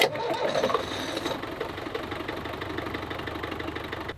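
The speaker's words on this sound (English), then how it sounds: "And now it's time for the 1 minute run. Engine test 3." A small motor runs steadily through a one-minute engine test, with a rough, even, mid-pitched drone. It is loud and close, with no talk over it.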